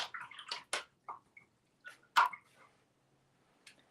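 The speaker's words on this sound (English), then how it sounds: "give the brush a wash." A paintbrush is swished and rinsed in a small water pot while a miniature barn owl is painted, producing a few soft splashes and clinks in short bursts, close and fairly quiet, separated by pauses.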